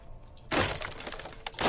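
Glass shattering in Rainbow Six Siege: a sudden loud crash of breaking panes with scattered crackling debris, then a second smashing burst near the end.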